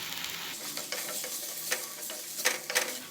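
Tomato, ginger, garlic and chili masala being sautéed for a country chicken curry, a close sizzle broken by repeated scraping stirs of a spoon against the pan, several louder strokes near the end, with no voices.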